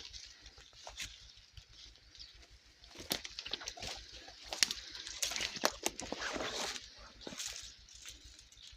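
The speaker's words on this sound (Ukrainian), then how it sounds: "О, який дощик шумить." Soft, steady rain patters through trees, with scattered sharper drips and a faint background hiss.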